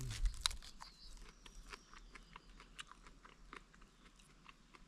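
Raw wild edible plant, skin still on, is bitten and chewed close to the ear. A crisp bite opens the clip and is followed by steady soft crunching mastication, with no speech.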